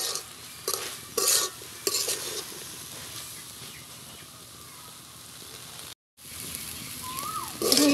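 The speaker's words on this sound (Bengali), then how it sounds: "এখন একটু হালকা করে ভেজে নিব" Potatoes and dheki shak fern greens lightly frying in a pan, a soft steady sizzle broken by several scraping stirs of a spatula, with a brief gap of silence near the end.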